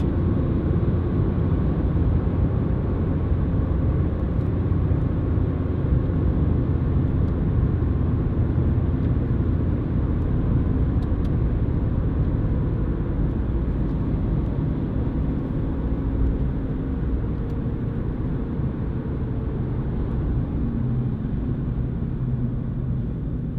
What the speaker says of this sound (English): you do get a little bit more tyre noise coming through, but nothing drastic so far